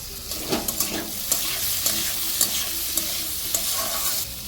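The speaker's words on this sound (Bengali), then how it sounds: "এখন আলুগুলো লাল লাল করে ভেজে নেব" Steady sizzle of potatoes frying in oil, with repeated light scrapes of a spatula stirring them in a pan.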